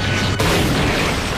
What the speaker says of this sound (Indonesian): tiba-tiba racunnya menyebar dan meledak seketika.